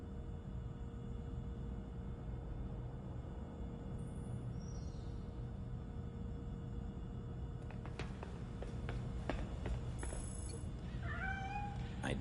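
A cat in the Gotham Knights video game giving a few short, high meows late on, heard over a steady low ambient rumble, with a faint chirp earlier.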